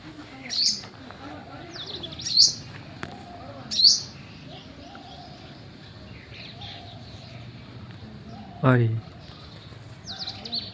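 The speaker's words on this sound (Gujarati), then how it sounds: "હવે ચકલી મસ્ત મસ્ત આવ્યા જ રાખે છે" Sparrows chirp in short, bright bursts spaced a few seconds apart, fairly close, over a quiet background with occasional voices.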